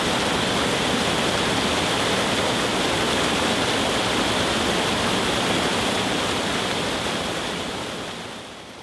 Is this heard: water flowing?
yes